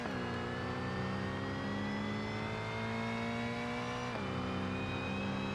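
A race car engine in BeamNG roars at high revs, its pitch climbing steadily before dropping with a gear shift and rising again, loud and continuous.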